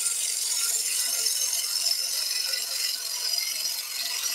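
A woodturning gouge slides along spinning timber on a lathe, producing a steady hissing, rattling cut that stays even throughout with no talk.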